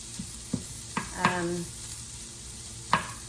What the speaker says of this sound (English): these will not take very long to stir fry